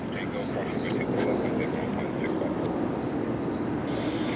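A United Airlines heavy airliner at LAX, arriving from London Heathrow, makes a steady, broad jet roar that holds at a fairly loud level across the whole stretch, with a voice talking over it.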